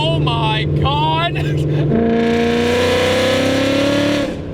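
A supercharged 800 hp Ford Mustang GT V8 engine roars loudly and close, its pitch climbing as it revs, with an excited voice shouting over the start.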